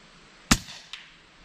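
A single sharp rifle crack rings out as a shot is fired into dense, dark woods, followed about half a second later by a fainter echo against a quiet outdoor background.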